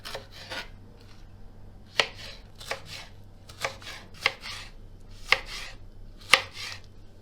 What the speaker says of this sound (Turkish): Şimdi bunları da yemeklik doğrayacağım